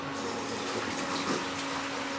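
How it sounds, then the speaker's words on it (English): Water dumped from a boiler during a powerflush pours and gushes steadily, a continuous splashing rush with a faint pump-like hum underneath, heard close and alone. "Going to dump the water one more time,"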